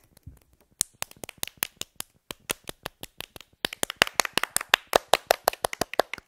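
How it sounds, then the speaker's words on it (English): Children's hands clap in a steady rhythm, sharp individual claps that grow louder and slightly quicker toward the end, with several people joining in. "Let's clap."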